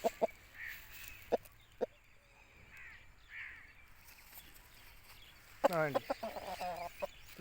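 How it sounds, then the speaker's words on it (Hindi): A long-tailed Aseel rooster gives a couple of short clucks early, then a loud crowing burst near the end, with someone briefly speaking and quiet room ambience between calls. "लंबी दुम में ये मुर्गा है"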